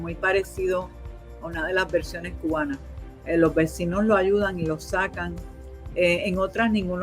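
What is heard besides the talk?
No everyday noises stand out.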